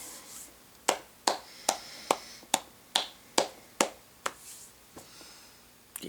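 Sharp claps from a single person's hands, about a dozen spaced slightly unevenly and fairly close, each crisp smack fading quickly, with a short pause late in the run before a final clap.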